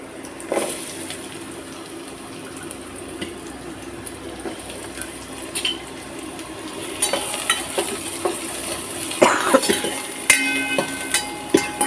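Onions frying in a pan for chicken soup, a low sizzle with occasional spoon scrapes that grows busier and louder toward the end as stirring picks up, with no voices.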